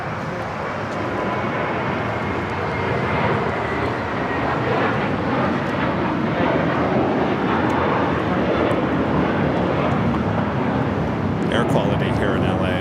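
Airplane at Los Angeles LAX airport, a loud, sustained jet roar holding steady at close range, with voices talking faintly underneath.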